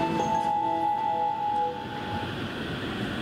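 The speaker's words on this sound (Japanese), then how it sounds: "まもなく1番線に中野行きが参ります。" Sobu Local Line train at Hirai Station rumbling through the platform, a steady mid-level mechanical roar with faint tonal whines fading slightly after the first seconds.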